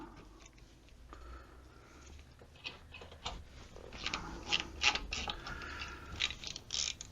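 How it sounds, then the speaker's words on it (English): A T30 Torx tool works a rear brake bolt on a 2008-2014 Mercedes-Benz C300 3.5L, with faint, close ratcheting clicks and metallic mechanical ticks that grow busier toward the end. "now we'll take a T30, Torx 30,"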